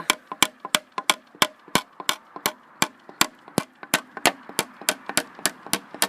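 Nails hammered into wooden planks outdoors at a cabin, a steady series of loud, sharp close strikes at a brisk even rhythm, about three blows per second, with no talk.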